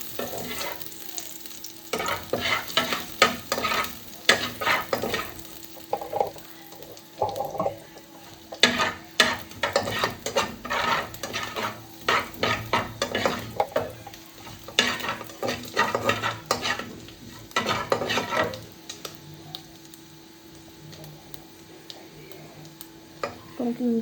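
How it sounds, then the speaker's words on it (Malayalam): Ginger fries in oil in a pan while being stirred repeatedly, with bursts of scraping, clattering strokes over a continuous sizzle. The sound is close and moderately loud, and brief speech can be heard between the stirring bursts. "നമുക്ക് ഇഞ്ചി നല്ലോണം ഇളക്കി കൊടുക്കാം."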